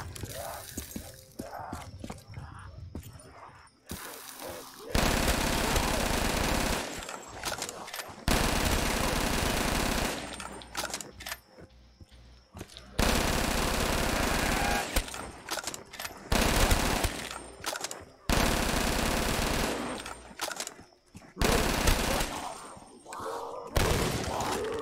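Rapid automatic gunfire from a pack-a-punched weapon in Black Ops 3 custom zombies, on the reimagined Town map, comes in several loud sustained bursts separated by short lulls with quieter game noise.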